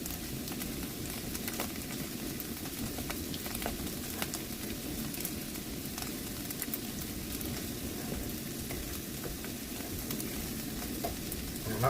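Cumin and garlic tempeh fries in a pan until its edges turn crispy, a steady close sizzle holding at an even level throughout with no one talking.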